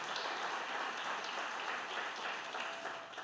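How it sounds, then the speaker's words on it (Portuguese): Congregation applauding during a Sunday evening church service, a steady wash of many hands clapping, faint and somewhat distant, continuous throughout. "Se você quiser, pode aplaudir ao Senhor"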